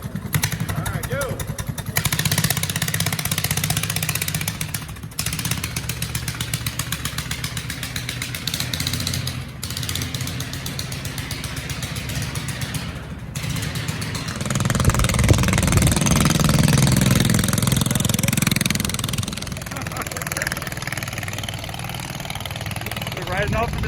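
A small engine on a lawn tractor converted into a minibike fires up and runs steadily, a loud close buzzing drone that swells and revs partway through, with people talking and cheering over it.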